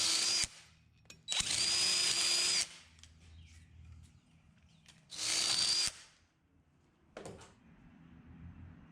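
A power drill bores into a metal hitch mount bracket in several loud, steady bursts of whining, separated by quiet pauses with small clanks and handling noises, and no voices.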